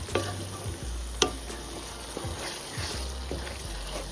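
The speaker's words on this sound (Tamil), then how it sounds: "எண்ணெயிலே தக்காளி நல்லா வதங்கணும்" Tomatoes sautéing in hot oil in a pan for a mushroom pepper masala, a steady close sizzle with scraping stir strokes and a few sharp utensil knocks against the pan.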